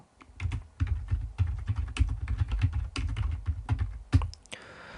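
Rapid, steady typing on a computer keyboard as a slide title is entered in PowerPoint, with close, crisp key clicks in quick succession and a short pause before a final soft click.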